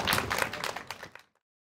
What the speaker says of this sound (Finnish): annetaan raikuvat aplodit meidän panelisteille